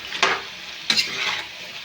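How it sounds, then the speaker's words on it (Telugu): Chicken curry with yogurt stirred in a pan, producing two brief scraping, sizzling strokes close by over a soft, steady frying hiss, with no talking. "కొంచెం పెరుగు అయితే వేసి ఇప్పుడు కలుపుతున్నానండి."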